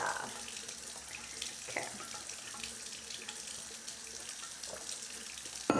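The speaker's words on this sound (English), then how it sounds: "we're gonna get some water going" A bathroom tap runs into a sink with a steady hiss and splash of flowing water, fairly close and continuous, while a person briefly speaks over it.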